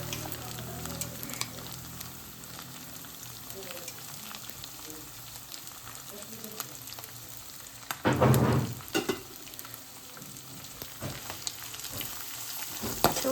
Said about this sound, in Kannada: ಈ ಥರ ಚಲೋ ಫ್ರೈ ಮಾಡಿರಿ ತುಪ್ಪದಾಗ